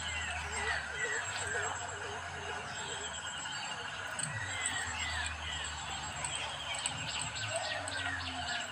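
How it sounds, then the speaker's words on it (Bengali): Birds call and chirp from trees around a village home in the early morning, a steady layer of overlapping high tweets over a low background hum, with occasional squeals. "এটা একদম অরিজিনাল পাখির ডাক। মানে এই যে আমাদের এখানে তো খুব গাছ আছে"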